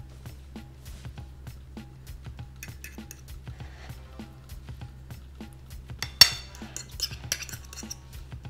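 Metal spoon scraping and tapping against a bowl while mashed potatoes are shaped into a chicken for kids, soft repeated clinks and squishes at close range, with one sharper clatter near the end.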